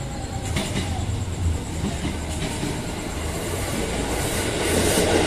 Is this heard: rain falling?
no